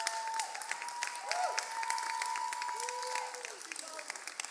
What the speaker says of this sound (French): j'aimerais ça qu'on l'applaudisse fortement parce qu'elle a travaillé super fort